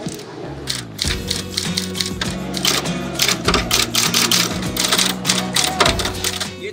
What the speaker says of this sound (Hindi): जो गुज़िश्ता 40 साल से एक ही टाइपराइटर का इस्तेमाल करते हुए मुख्तलिफ डॉक्यूमेंट्स को टाइप कर रहे हैं